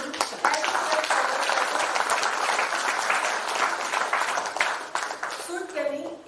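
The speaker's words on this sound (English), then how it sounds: "Please give a big round of applause to the team." At a company silver jubilee celebration, an audience gives loud, sustained applause after a skit, with clapping that fades slightly near the end as a voice begins.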